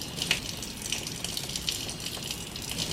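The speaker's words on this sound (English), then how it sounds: "I forgot to turn off the tap after washing our fruits." A kitchen tap left running after washing fruit sends water pouring steadily into a sink, a continuous hissing splash that stays even throughout, with no one speaking.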